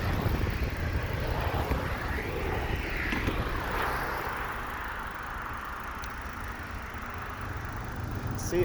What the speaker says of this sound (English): Southwest plane's about to take off.